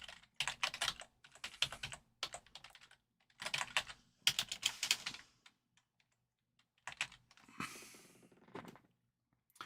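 Clicky keystrokes on a computer keyboard come in quick bursts of typing broken by short pauses, close and clear with no voices.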